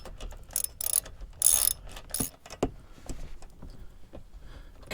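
A socket ratchet works the 10 mm skid plate bolts on a 2019-2024 Toyota Rav4. Close, quiet bursts of clicking pawl sounds come in short, uneven strokes with small metallic knocks between them.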